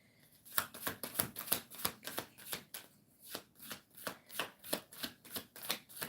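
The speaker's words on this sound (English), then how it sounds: "One more shuffle." Tarot cards are shuffled in a quick steady rhythm, a series of crisp riffling bursts close up, fairly quiet, with no talking.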